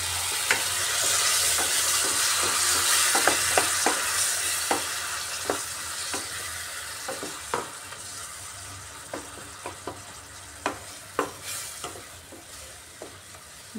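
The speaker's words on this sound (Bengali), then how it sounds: "যেহেতু গুঁড়া মশলাগুলো দিয়েছি ড্রাই এর জন্য সামান্য জল দিয়ে দিচ্ছি।" Ground spices and onion-tomato masala sizzle in a pan for tandoori egg curry as a little water goes in, a loud steady frying hiss with a series of scraping stirs, close and without talk.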